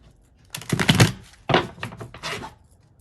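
A deck of tarot cards is shuffled close by during a card reading, with several quick riffling, flapping bursts separated by short pauses.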